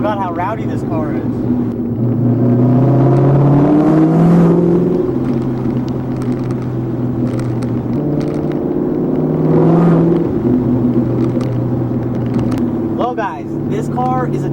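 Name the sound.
Cobra sports car engine rumbling while driving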